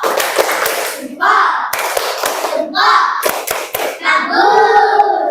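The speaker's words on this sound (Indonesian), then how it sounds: "mari kita berikan tepuk jempol untuk Nuryani ya" A group of children claps together in quick bursts of Indonesian thumb clapping in a classroom, with children's voices chattering and calling out between the rounds of applause.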